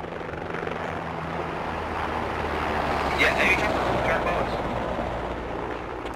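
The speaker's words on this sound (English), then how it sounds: "Oh, chopper?" A helicopter in the Squad video game drones steadily throughout, a continuous rotor and engine roar that swells slightly near the middle, with voices heard over it.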